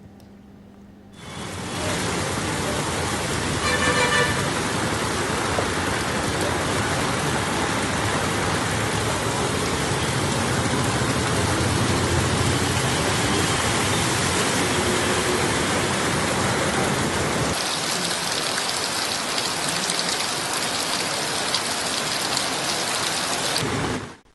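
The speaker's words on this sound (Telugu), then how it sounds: "వరంగల్లో భారీ వర్షం పడుతోంది" Steady, dense downpour of heavy rain in Warangal, loud and constant, a broad roar of drops that holds unbroken for the whole stretch.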